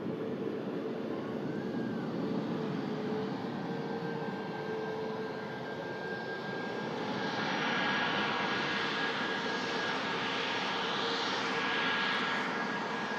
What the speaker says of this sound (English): Into the dark sky she goes. The Lufthansa A321.